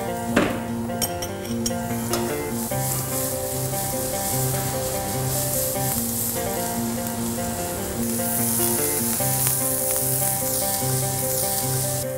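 Garlic sizzles in a pan for spicy pasta, a steady frying hiss with occasional light clinks of utensils against the pan, over faint background music.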